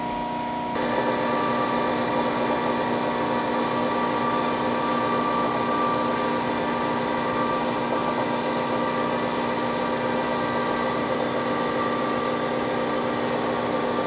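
A CNC machine drills into a camera case front: a steady, loud mechanical whine with a constant tonal hum and spindle buzz, continuous for the whole stretch after a brief quieter start.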